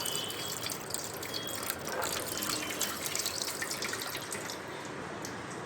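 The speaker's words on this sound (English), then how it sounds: "We first wash the complete limb with sterile water." Sterile water pours and splashes over a leg being washed while dressing a varicose vein wound, a close, continuous trickling gush with small drips and no talking.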